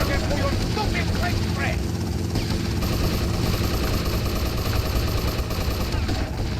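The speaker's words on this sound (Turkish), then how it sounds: "indir şu helikopteri." A helicopter flies close overhead in GTA Vice City, its loud, steady rotor roar mixed with gunfire, while people talk over the din.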